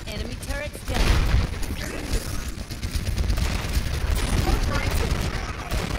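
Gunfire in Overwatch as a player shoots at an enemy tower turret, a dense, steady barrage of rapid shots and impacts that runs throughout under game effects, with talk over it.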